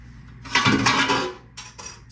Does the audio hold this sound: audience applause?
no